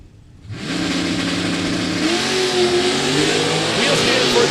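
A 1967 Chevy Nova drag car with old school mechanical fuel injection launches and accelerates down the strip, a roaring engine rising steadily in pitch over several seconds at close range, with a commentator talking over it.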